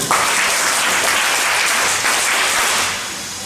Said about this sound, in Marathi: टाळ्या वाजल्या तुमच्यासाठी